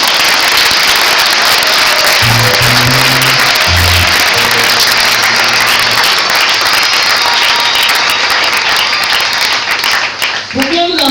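Crowd acclamation at an opening ceremony, a loud, continuous wash of clapping and cheering filling the space, with low tonal sounds underneath early on and the roar dipping slightly near the end.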